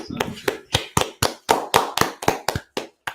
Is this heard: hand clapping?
yes